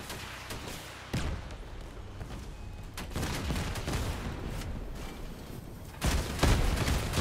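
Shotgun blasts in the Crossout vehicle combat game: several loud, heavy booms at uneven intervals, with a close pair near the end, over a steady wash of engine and battle noise.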